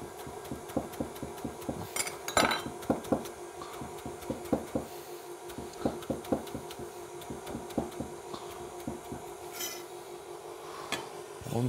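A knife finely chopping a bunch of chives on a board, quick rhythmic taps in steady bursts with short pauses, close and crisp, a few louder clacks mixed in.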